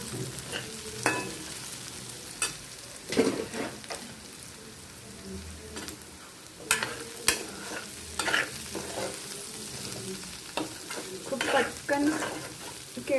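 Raw banana sabzi is stir-fried in a pan with a soft background sizzle, broken by repeated scraping and clacking strokes of a spatula at an irregular pace, moderately close.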